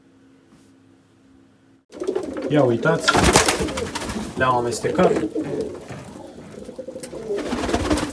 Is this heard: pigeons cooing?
yes